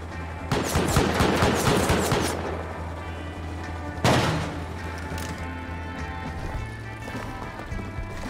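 Auto turrets firing at Sulfur Quarry in a video game, a dense, loud burst of rapid gunfire lasting about two seconds, a single sharp blast, then scattered distant pops over a steady engine hum.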